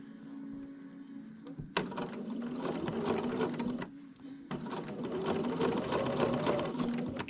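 Sewing machine running in two long bursts while stitching a long seam, a steady close whir with a short pause between runs.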